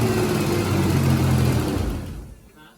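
A close Ford Ranger engine with an exhaust leak runs with a rough, sputtering exhaust rattle, then winds down and fades out.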